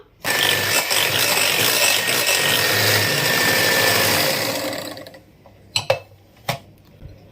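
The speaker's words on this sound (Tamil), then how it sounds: "முட்டையும் சீனியும் நல்லா பீட் பண்ணியாச்சு" An electric beater whisks eggs and sugar for a donut cake, a loud, dense motor whir with beaters rattling in the bowl for about five seconds before it shuts off, followed by a few sharp knocks.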